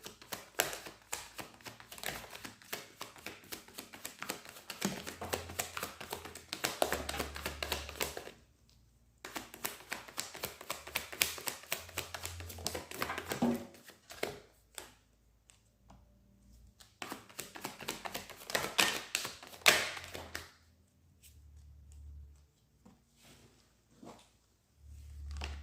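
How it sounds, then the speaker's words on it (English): Tarot cards being pulled and shuffled by hand, dense bursts of papery slaps and flicks that come in several long runs broken by short quiet pauses, close and moderately loud with no voices. "Let me just pull more cards a moment."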